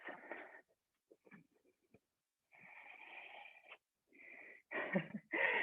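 Deep, audible breaths during a yoga session come in slow, raspy bursts with wheezy, snore-like tones, separated by quiet pauses and growing louder toward the end.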